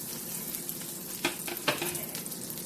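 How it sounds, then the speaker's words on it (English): A thin pat of butter sizzling in a hot pan as it is swirled around, a soft, steady frying hiss with a few sharper crackles and spatters partway through, close and without talk. "Just a very thin pat of butter. Swirl it around."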